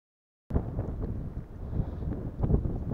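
Icy wind gusting at the Aabach dam reservoir and buffeting the microphone with a loud, steady low roar that rises and falls; it begins abruptly after a brief silence.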